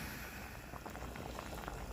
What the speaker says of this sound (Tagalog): Yan mga kabayan, kumukulo-kulo na po yung ating paksiw.